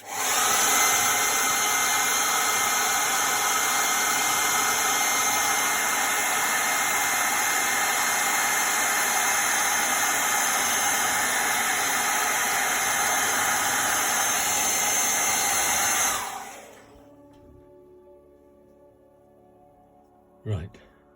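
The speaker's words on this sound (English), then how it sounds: "Noisy hairdryer bit." A hairdryer blasts steady, loud broadband air noise for about sixteen seconds while drying paint on a miniature figure, then cuts off and winds down, leaving near silence and one brief knock near the end.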